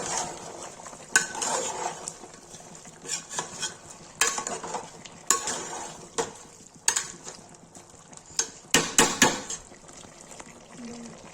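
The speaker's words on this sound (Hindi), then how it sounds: "इसमें डालेंगे लाल मिर्च, डालेंगे हल्दी, तो चला देंगे।" A spoon scrapes and stirs Kashmiri-style chicken curry in a pan after red chili and turmeric go in, with metallic clinks and soft sizzling in irregular bursts, close by, with faint talk underneath.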